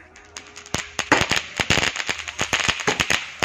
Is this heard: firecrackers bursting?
yes